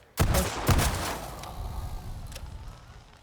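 Revolver gunfire in the video game Bloodhunt: two loud, sharp shots about half a second apart, each followed by a ringing tail, then a third fainter shot further off over steady background noise.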